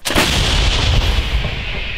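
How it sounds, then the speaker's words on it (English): An M777 howitzer fires once on a front line near Bakhmut, Ukraine, a sudden close, very loud blast followed by a long rumbling roar and echo that slowly fades. "This is the artillery unit who are working with the M777s."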